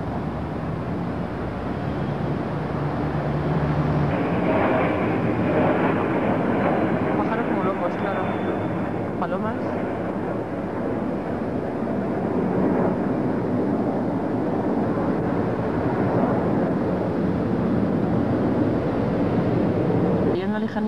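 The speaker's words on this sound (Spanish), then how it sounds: "Hay algo, no sé qué es, son helicópteros." Helicopters fly overhead during a 2004 armed forces parade in Madrid, a steady loud rotor-and-engine roar that persists throughout, with crowd voices and talk underneath.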